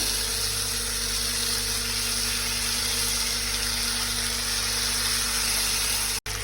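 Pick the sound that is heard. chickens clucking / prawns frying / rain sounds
prawns frying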